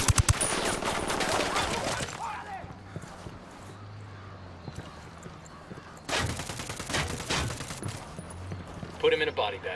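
Rapid bursts of automatic gunfire crackle in a Ghost Recon firefight, loud and dense at the start, dropping away, then returning in a second heavy volley with voices shouting over the shooting.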